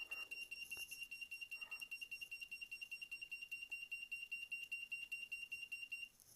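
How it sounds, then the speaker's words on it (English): A high-pitched electronic alarm beeps rapidly and continuously in a steady pulsing pattern, with a couple of faint clicks in the background. "And there you have your very own alarm."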